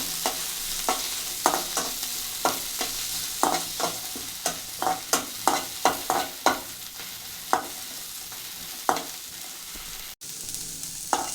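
Garlic and ginger frying in a pan for badanekayi ennegayi, a steady bright sizzle broken by repeated rhythmic spatula scrapes, close and fairly loud with no talking.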